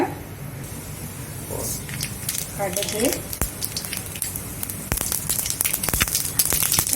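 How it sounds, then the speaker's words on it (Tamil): Mustard seeds popping in hot oil in a kadai alongside urad dal, a home cooking setup for karunai kuzhambu; scattered sharp crackles and pops, growing denser and louder toward the end, with a brief voice in the middle. "கடுகு நல்லா பொரிஞ்சிருச்சுங்க."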